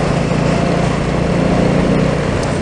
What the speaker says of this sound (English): But I wish I had more of an exhaust note